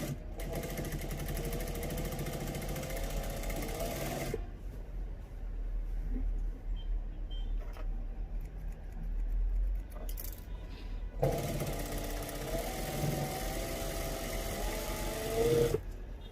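An electric sewing machine stitches a gents kameez hem in two bursts of steady motor whir and rapid needle clatter, separated by a quieter pause with faint handling clicks and fabric movement.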